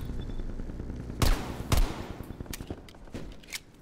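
Gunfire in Call of Duty Black Ops Cold War, two loud sharp shots close together followed by a string of lighter, quicker pops, fairly near with no talking.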